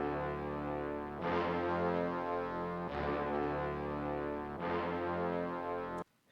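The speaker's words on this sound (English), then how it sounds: "That sound is just a classic FS brass that is used in a lot of glow beats" A classic FS brass synth patch from a Roland Phantom, pitched down an octave, plays three sustained chord stabs in a repeating pattern, loud and alone, cutting off abruptly at the end.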